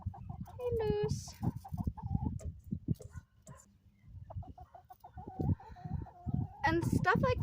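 Backyard laying hens clucking and calling close by, a string of short clucks and squawks with a rooster-like crow, while a person talks over them outdoors.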